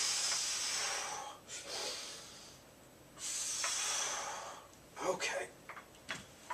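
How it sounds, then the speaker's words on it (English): Forceful exhalations during a weight-training workout, two long hissing breaths out close to the mic, with softer breathing sounds and light knocks after. "and breathe out."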